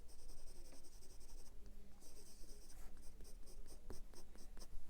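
A Platinum Procyon fountain pen with a Japanese nib scratches across paper in close, quiet strokes, with short bursts of fine scratching separated by brief pauses.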